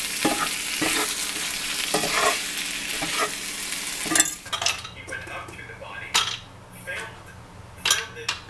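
Stir-frying in a pan with Panda Bear oyster sauce: steady sizzle with scraping and clinking of a utensil against the pan, dense for the first half, then quieter with intermittent stirring knocks and scrapes.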